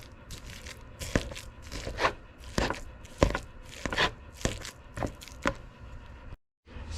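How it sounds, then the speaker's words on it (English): Ground beef is broken up in beef broth in a pan with a utensil, giving repeated soft, wet crunching and scraping strokes at an irregular rhythm, close and fairly quiet. "you just want to go ahead and break up your ground beef"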